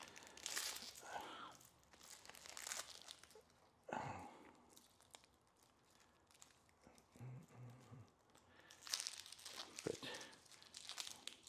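Plastic protective wrapping is peeled and crinkled off a titanium Apple Watch band up close, in bursts of crackling and tearing rustle with quieter handling between, while a voice briefly speaks.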